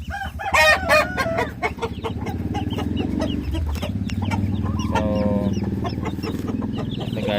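Native chickens cluck and crow close by, with a rooster's call near the start and steady hen clucking over a low background hum.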